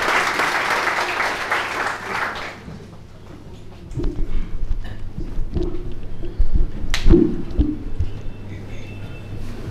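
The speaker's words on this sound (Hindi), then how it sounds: "तो एक बार तालियाँ बजाइए आदरणीय श्रीधान जोशी सर को।" Audience applause at a book release ceremony for a speaker, a brief burst of clapping that fades quickly into a quieter room with scattered knocks and shuffling.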